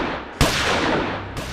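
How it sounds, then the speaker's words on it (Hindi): Gunshots fired in a staged crime drama reenactment, two sharp loud bursts with a dense roaring blast filling the short span between them. "जब विमल भाटी ने सुरेश शर्मा पर 4 गोलियां चलाकर उसे ढेर कर दिया"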